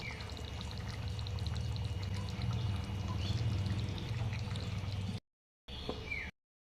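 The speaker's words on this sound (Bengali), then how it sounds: "এবার আমি এর মধ্যে 4 ফোঁটা আতর আর 1 টেবিল স্পুন গোলাপ জল দিয়ে দেব" Rose water and attar are poured into biryani as a soft continuous trickle of liquid, close and quiet, that stops abruptly, followed by one brief return of the sound.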